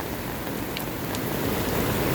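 Heavy rain pours steadily and loudly close by, a dense unbroken hiss of drops drumming on surfaces with no voices.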